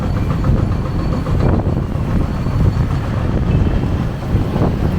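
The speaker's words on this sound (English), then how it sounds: "so strong wind right now" Strong wind after a super typhoon in Dau, Philippines roars and buffets the microphone continuously, a dense rumbling rush with gusts swelling and easing, and no voices over it.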